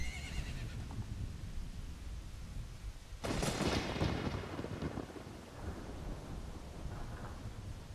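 A horse in The Legend of Zelda: Ocarina of Time gives a loud, sudden whinny partway through, set against a low rumbling game ambience.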